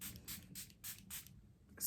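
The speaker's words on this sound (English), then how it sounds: "we're going to spray some of that right now." Makeup setting spray released as a super fine mist in five quick, evenly spaced pumps, each a short soft hiss, close by and quiet.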